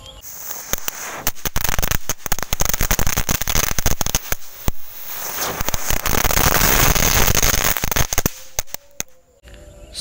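Rapid paper-wrapped jumbo firecrackers pop in a dense, crackling burst, sharp bangs following one another for several seconds before thinning out into scattered cracks.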